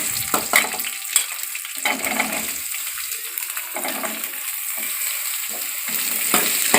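Three chopped onions sizzle and fry steadily in a hot pan for Chettinad mutton gravy, with intermittent louder bursts as they are stirred and turned; no talking.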